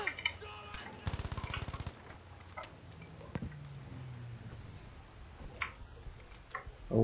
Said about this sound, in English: people are firing blind here